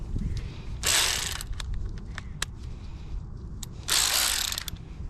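A ratchet cranks down brake rotor bolts on a KTM 150SX dirt bike, two bursts of rapid close clicking separated by quieter metallic ticks and handling noise.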